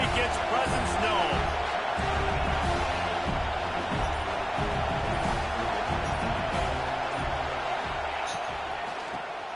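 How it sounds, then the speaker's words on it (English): A college football stadium crowd roars in a steady, dense wash of cheering that fills the whole clip, with a commentator talking over it throughout. "This crowd ready to make its presence known."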